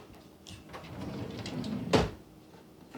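A kitchen drawer being pulled open and rummaged through during a search for candles, with low rustling and shuffling building to one sharp, loud knock near the end, close by and without talk.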